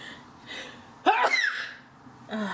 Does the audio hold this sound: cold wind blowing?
no